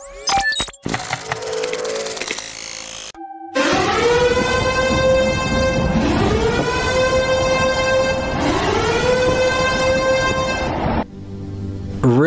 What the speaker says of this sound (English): At the beginning of the clip, we hear the storm siren go off.